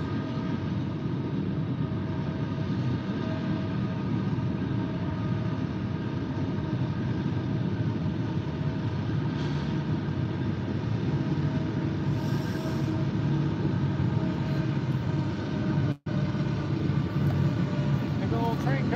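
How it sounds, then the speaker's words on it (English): A big freight train rumbles past near the Mississippi River, a continuous loud, steady roar and clatter lasting throughout, with a brief dropout near the end. "Big old train coming by, guys."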